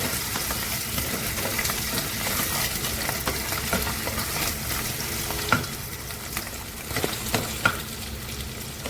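Marinated mutton and fat frying in hot oil for a mutton curry, a loud continuous sizzle with occasional sharp pops and spatula scrapes throughout.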